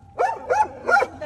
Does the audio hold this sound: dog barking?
yes